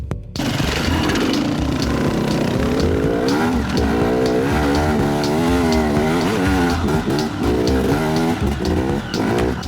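A KTM Freeride 250R enduro motorcycle engine running loud and close while being ridden, a raspy buzzing drone with rising and falling revs throughout and no talking.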